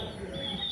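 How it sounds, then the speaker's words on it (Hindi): Recorded birdsong plays as a stage sound effect during a live theatre performance, a steady bright twittering that runs continuously with no voices over it. "चिड़िया चहचहा रही है।"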